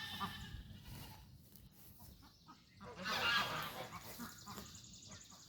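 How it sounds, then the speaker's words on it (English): Geese on a homestead let out a loud burst of honking partway through, rising over faint rustling and background noise before settling into quieter calls. "Run away from the noisy geese."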